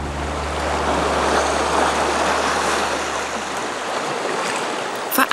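Baltic Sea waves washing onto the shore near Staberhof lighthouse, a continuous close hiss of surf with a low steady hum underneath that fades near the end.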